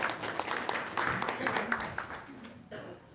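Studio audience applause at an Indonesian talk session, a short burst of clapping with some voices mixed in, fading out after about two and a half seconds.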